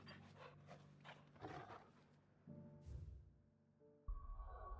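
A dog in Final Fantasy XVI pants softly in short rhythmic breaths, quiet and close, over faint game ambience and music tones.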